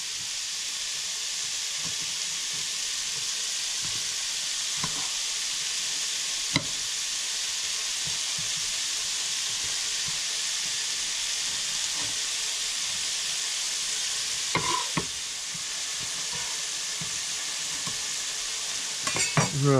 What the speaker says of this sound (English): Starting to sizzle away there.